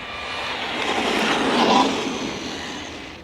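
Arrma Vorteks RC truck at full throttle on grass, a high whining motor that swells as it nears and fades away, heard from a distance without talk.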